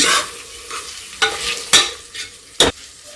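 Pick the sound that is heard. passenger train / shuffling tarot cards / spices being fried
spices being fried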